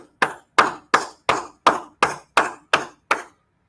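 An audience claps in unison: nine sharp, evenly spaced hand claps ring out in a steady rhythm, fairly close and loud, and stop abruptly with no talk over them.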